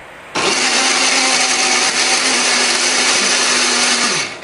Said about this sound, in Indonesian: Bumbu ini akan kita haluskan menggunakan blender ya.